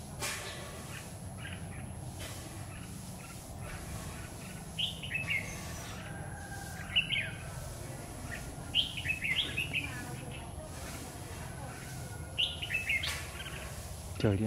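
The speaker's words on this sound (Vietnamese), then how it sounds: "Con bố ở trên hót kinh thế này." Red-whiskered bulbul song, bright repeated chirping phrases in short bursts every couple of seconds, moderately near over a steady background hiss outdoors on a stormy afternoon, with other faint bird calls around.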